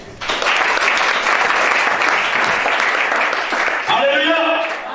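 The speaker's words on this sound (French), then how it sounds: "Acclamation." Congregation at a Gabon church service bursting into sustained applause and acclamation, a loud dense wash of clapping and cheering voices filling the hall, ending with a few shouted calls.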